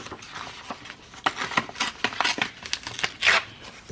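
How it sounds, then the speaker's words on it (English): Paper torn by hand from the top of a sheet during a craft project, a series of ripping and crinkling bursts building to a louder close rip near the end, with no talking. "We'll just tear it off."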